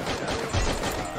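Rapid gunfire in the Free Fire battle game, bursts of shots rattling continuously at moderate loudness through a short stretch, no talk over it.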